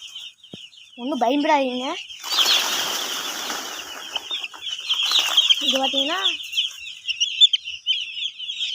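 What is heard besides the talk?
chickens clucking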